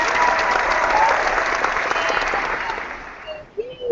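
An audience applauds for Marissa during a live online event, a dense burst of clapping that holds steady for a few seconds and then fades away.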